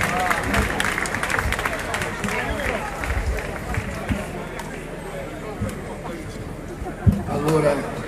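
An audience at an Italian political election rally breaks into applause, a dense patter of clapping mixed with crowd murmur that builds and then thins out. Voices talk underneath.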